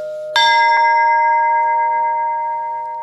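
A Belarusian church bell is struck once, loud and close, and its bright, layered tone rings on and slowly decays over a few seconds.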